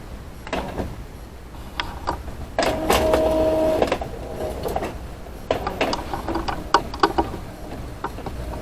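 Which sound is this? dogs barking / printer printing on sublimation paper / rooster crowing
printer printing on sublimation paper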